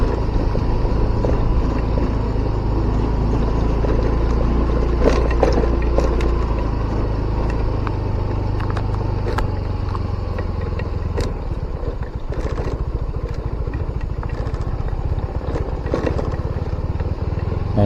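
A motorcycle engine drones steadily nearby, its low rumble holding for a while before easing off, with faint clicks and background noise, on a quiet road at dusk.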